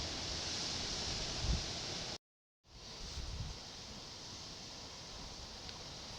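Steady wind buffeting a fishing spot by the water, a continuous broadband rush with a brief dropout partway through, then the gusty roar resumes close to the microphone.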